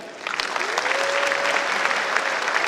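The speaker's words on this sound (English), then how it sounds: "So please welcome him with a great clap." A steady wash of audience applause welcomes a newly appointed state governor at an academic summit, sustained crowd clapping with a faint tone running beneath it.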